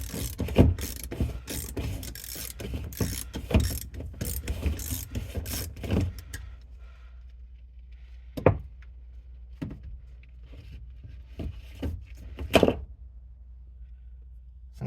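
A fuel pump lock ring on an Acura RSX being slowly worked loose: a dense run of close metallic clicks and scrapes for about six seconds, then a few separate knocks and taps in near silence.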